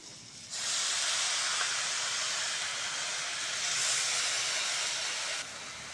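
Washed drumstick leaves are added to a hot pan and set off a sudden loud, close hiss that holds steady for about five seconds before cutting back down.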